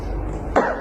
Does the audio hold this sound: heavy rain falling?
no